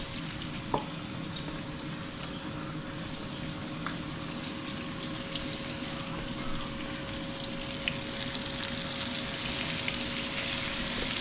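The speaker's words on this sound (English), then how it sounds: "We're frying some of this goodness here" Food frying in a pan in a Saturday home kitchen in Georgetown, a steady close crackling sizzle with fine popping that runs without a break and with no talking.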